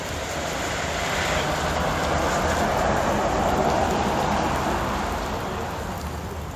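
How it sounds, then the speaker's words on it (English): Light rain falling outdoors, a steady dense hiss of drops that holds evenly throughout with no voices over it. "Starting to rain again a little bit."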